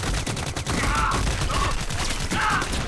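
Rapid gunfire in the video game Army of Two, shooting through cover. A steady dense fusillade of close shots continues throughout, with brief ringing metallic tones layered over it.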